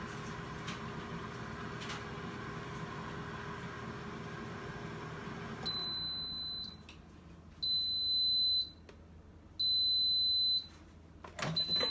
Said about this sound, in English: as soon as it beeps